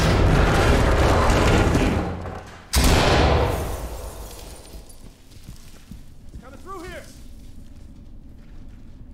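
A C2 breaching charge detonates in the tactical shooter Ready or Not, a sudden loud blast that cuts sharply through a dense wash of noise and then decays over a couple of seconds into quieter rumbling.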